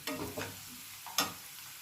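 A couple of brief stirring scrapes and a light sizzle come from food frying in a pan until soft, faint and close, with no one talking.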